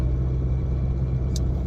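Road traffic inside the Medway Tunnel at morning rush hour, a continuous deep rumble of engines heard from within a car stuck in the queue, steady and enclosed with no voices.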